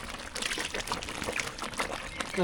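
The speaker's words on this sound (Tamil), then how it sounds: "சாம்பாருக்கு கடைசியா புளி தண்ணி சேர்த்துக்கலாம்" Tamarind water is poured into a pot of sambar in a home kitchen, a steady splashing trickle of liquid heard up close.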